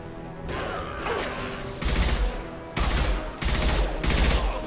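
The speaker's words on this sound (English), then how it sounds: "Firing at him!" Several loud bursts of rapid gunfire in Mass Effect 2, each a dense crackling volley, separated by short gaps over a busy combat background.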